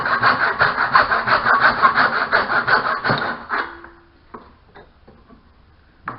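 A hand saw cuts through a wooden stud with a rapid, even rhythm of loud, close rasping strokes for about three seconds, then stops, followed by a few light knocks and clicks.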